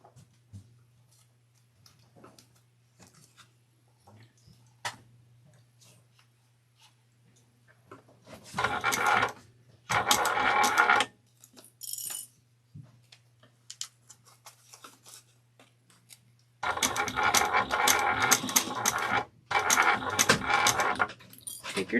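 A sewing machine stitches a small quilted stuffed-beast piece, raw edges together along a 3/8-inch seam line, in two close, loud bursts of rapid running, with quiet handling sounds and a low steady hum between them and no talk.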